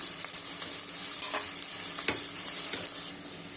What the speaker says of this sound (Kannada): ಸಣ್ಣ ಸೈಜ್ದು ಎರಡು ಈರುಳ್ಳಿನ ಉದ್ದಕ್ಕೆ ಕಟ್ ಮಾಡಿಟ್ಕೊಂಡಿದ್ದೆ ಅದನ್ನು ಹಾಕ್ತಾ ಇದ್ದೀನಿ ಇದನ್ನು ಚೆನ್ನಾಗಿ ಫ್ರೈ ಮಾಡ್ಕೊಳ್ಳೋಣ